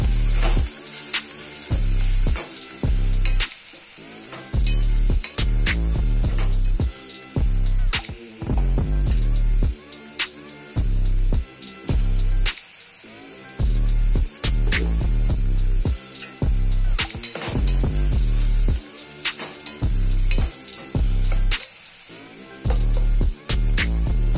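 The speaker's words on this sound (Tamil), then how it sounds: "நம்ம கட் பண்ணி வச்சுருக்க தக்காளியும் சேர்த்து வதக்கிக்கலாம்" Onions and tomatoes sautéing in a pan for bitter gourd curry, with steady sizzling and frying broken by repeated stirring pauses, close and loud.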